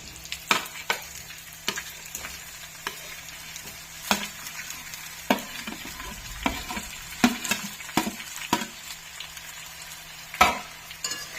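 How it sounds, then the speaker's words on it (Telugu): Potato pieces frying in a pan with asafoetida while cooking aloo upma curry, giving a soft, steady sizzle broken by repeated sharp clinks and scrapes of stirring. "ఇప్పుడు ఆలు ముక్కలు వేసేస్తున్నానండి."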